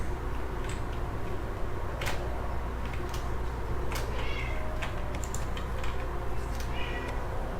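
A cat meows a few times inside the video game Playing God, short mid-pitched calls over a steady background hum and soft clicks, with no talk.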